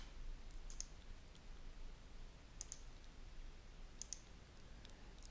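Faint computer mouse clicks in a quiet room, a few sharp isolated clicks, some in quick pairs, spaced over several seconds against low background hiss.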